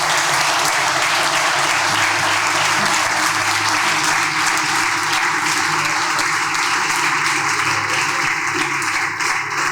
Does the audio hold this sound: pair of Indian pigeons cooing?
no